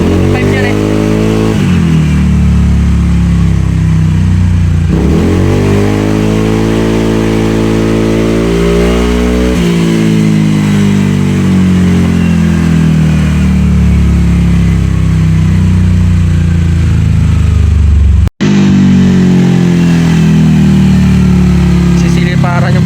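A Honda Click 125 scooter with a new exhaust pipe, on a dyno during remap tuning, revs loudly and close in repeated rising pulls and drops, with speech underneath.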